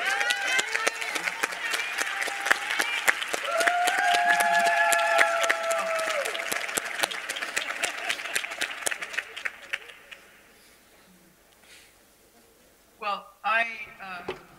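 An audience at a talk on racism applauds, with a dense burst of clapping that is loud at first, then thins out and fades. A voice speaks briefly near the end.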